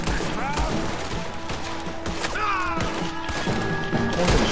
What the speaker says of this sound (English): Am I the only guy shooting right now?